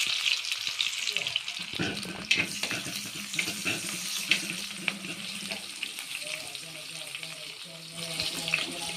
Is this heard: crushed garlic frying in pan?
yes